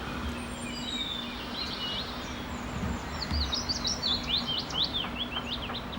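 Wild bird calling outdoors near willow warblers and nettle thickets, heard as repeated sharp, high chirps and whistled notes that grow busier in the second half over a soft, steady background hum, with no talking.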